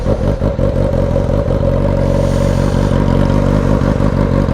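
A Suzuki GSX-S750 motorcycle with its exhaust removed revs loudly and steadily close by, its raw engine note rising and falling through repeated throttle blips.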